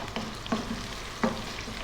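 Two cups of onion cooking in a pot over medium-high heat for an Indian beef curry, giving a steady sizzle with a few short stirring scrapes, close by and with no talking.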